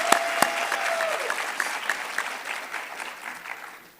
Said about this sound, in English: Let's give Mr. and Miss Coppin State University another round of applause for getting us started.